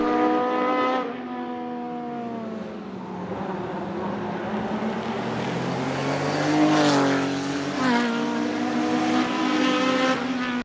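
A Porsche 935 race car howls under hard acceleration, the engine pitch climbing and dropping through shifts, loud and sustained with a harsh, raspy edge.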